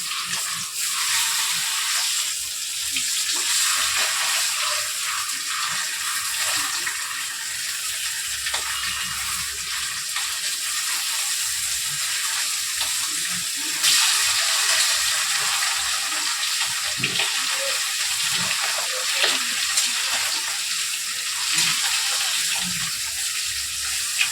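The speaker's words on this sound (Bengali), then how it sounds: "মাছগুলো ভাজা হচ্ছে" Fish frying in a pan gives a continuous, even hiss and crackle, fairly close and steady throughout with no talking.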